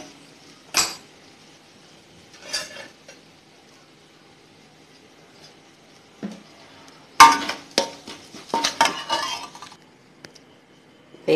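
Spice powder stirred into hot oil in a pan while making tomato pickle, heard as a few sharp clinks and scrapes of a spoon against metal between quiet gaps, with a busier cluster of stirring near the end.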